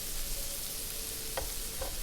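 Sausages frying in a pan give a steady, close sizzle that runs the full two seconds, with two brief faint clicks near the end.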